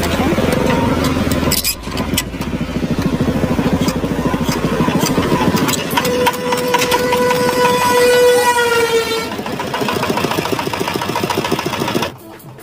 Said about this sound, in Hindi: आप ऐसे इंजन को मैनुअली भी स्टार्ट कर सकते हैं।